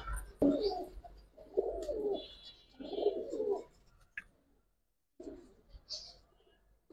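Soft, low cooing calls come in three or four rounded bursts with short pauses, close by, with faint high chirps scattered between them.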